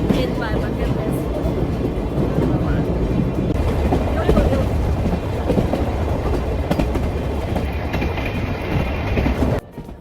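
Passenger train running along the Sagano River in Japan, its steady rumble and clickety-clack of wheels on rail filling the carriage continuously, heard from inside, with a sudden drop near the end.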